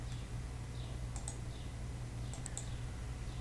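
Faint computer mouse clicks, in a quick pair and then a short cluster, come close up over steady low hum while a PDF file is opened, with no voices.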